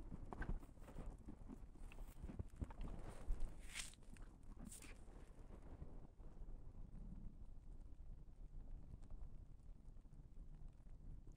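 Horses standing out in wet falling snow, their hooves clopping and shuffling faintly nearby, with soft wind noise and a few brief louder thumps early on.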